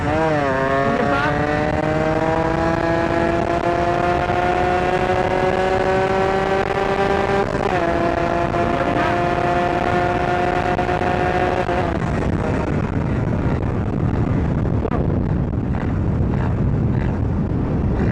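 A Suzuki Satria two-stroke motorcycle revs up through the gears, its high buzzing engine note climbing steadily, dropping at each shift and then climbing again, loud and close throughout.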